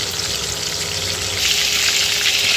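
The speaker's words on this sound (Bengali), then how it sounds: "এক এক করে এভাবে আলু আর মাংসগুলো খুব ভালো করে ভেজে নিব" Chicken pieces and new potatoes fry in a pan with a steady, loud, close sizzle that builds slightly partway through, with no talking over it.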